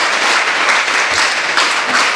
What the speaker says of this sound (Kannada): ಚಪ್ಪಾಳೆ ಬೇಕಲ್ಲ ಅವಳಿಗೆ.